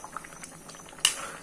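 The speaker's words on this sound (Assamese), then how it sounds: "এতিয়া মাংস উতলি আছে।" Chicken curry with local chicken meat simmering under a lid on low gas, small bubbles popping and gurgling close by, with a sharper burst of bubbling near the end.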